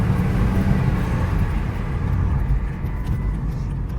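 A Chrysler V6 engine runs steadily nearby, a dense, rough low rumble with constant loudness and a faint hiss on top, no voices over it.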